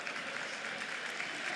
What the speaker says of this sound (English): Coventry subs appear in front of us to applause from the home supporters